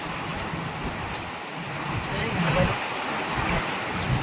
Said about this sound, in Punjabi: ਬਹੁਤ ਪੈ ਰਿਹਾ ਮੀਂਹ